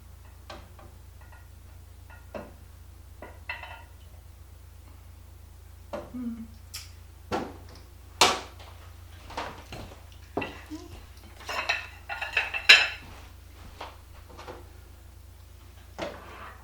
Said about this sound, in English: My chunky potato soup is done now, so I'm going to dip me and Calvin a bowl out